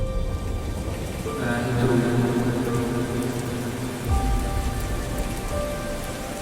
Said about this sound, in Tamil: மழை வருது மழை வருது